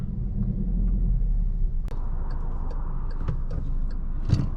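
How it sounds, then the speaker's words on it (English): A 2016 Volkswagen Jetta GLI with a six-speed manual gearbox pulls away, heard from inside as a steady low engine and road rumble with a few light ticks and clicks over it. "setting off in the 2016 Volkswagen GLI"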